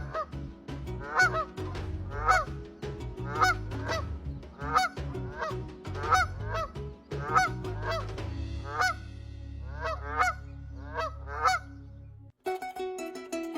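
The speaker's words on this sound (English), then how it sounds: "These crater lakes are home to flocks of flamingos, turning the waters pink during certain times of the year." A flock of flamingos at a crater lake honks in repeated loud goose-like bursts over a steady low background, calling continuously before a short noisy break at the end.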